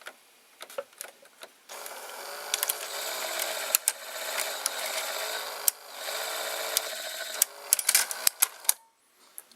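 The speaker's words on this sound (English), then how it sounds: "now we're gonna see these gears from close when it will eject" Gears of a broken Mitsubishi HS-U20 VCR turning during eject, a close whirring motor hum with rapid mechanical clicks and ticks, running in stretches then stopping with a few sharp clunks.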